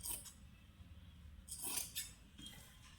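Scissors snipping through saree fabric while a pleated gown is being cut, quiet close crisp snips in a few short bursts with soft handling noise between them.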